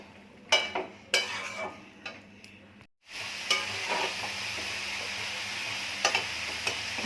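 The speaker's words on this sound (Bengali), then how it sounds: "এবার ওলটা দিয়ে দিচ্ছি, দিয়ে ভালো করে কষে নেব।" Elephant foot yam and soybean chunks stir-fried in hot spiced oil, a steady close sizzle broken by sharp scrapes and clinks of a spatula against the pan, with a brief pause midway.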